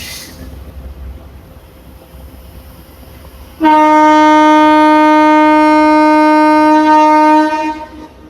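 A train pulling out of Krishna Canal Junction sounds a long, loud, steady horn blast lasting about four seconds, rising abruptly out of low rumbling background noise and then fading.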